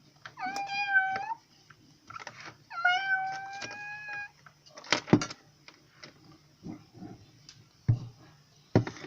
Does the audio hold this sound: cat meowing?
yes